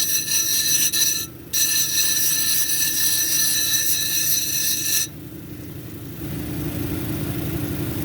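A lapidary grinding wheel shapes the dome of a dopped Peruvian rhodonite cabochon, giving a steady, loud motor whine with a brief dip early on. It cuts off around the five-second mark, leaving a lower, duller motor hum.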